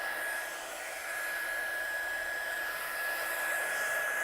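A heat gun warms embossing powder on acetate with a steady, loud, close blowing whir that runs unbroken throughout.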